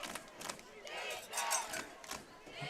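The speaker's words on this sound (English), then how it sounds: "You can hear the Mustangs cheering on their defense" A crowd of Oologah Mustangs fans at a high school football game against the Wagoner Bulldogs yells and cheers in surging waves for their defense, sounding somewhat distant and moderately quiet.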